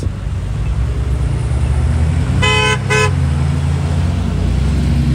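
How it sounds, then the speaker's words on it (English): Two short car horn toots in stopped street traffic at a red light in Lexington, standing out over a steady loud rumble of idling vehicles and road noise. "I'll honk at you too."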